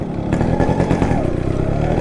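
A Yamaha RX135 two-stroke motorcycle revs hard close by, its exhaust giving a loud, raspy, continuous buzzing drone that fills the whole short stretch.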